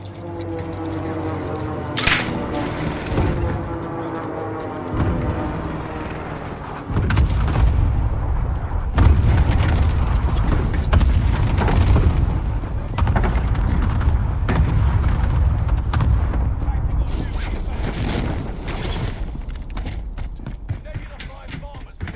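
Deep booming Nebula 5 bomb blasts in a shooter video game, heavy low rumbles rolling one after another over about twenty seconds, loud and close, with a sharper crack or two near the start.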